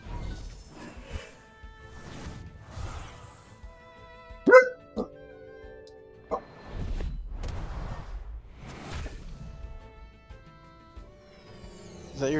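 A dog barks in a few scattered, distant woofs heard faintly through a microphone at home, alongside small clicks and knocks.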